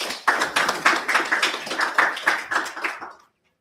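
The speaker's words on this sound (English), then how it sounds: "Please give a hand clap" An audience claps for a speaker at a community sports and small-business event, a brisk burst of hand claps lasting about three seconds before cutting off into silence.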